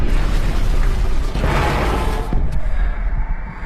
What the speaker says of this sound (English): This isn't just another over-the-top Hollywood explosion, as the traditional orange flames are replaced with a startling plume of flying dirt.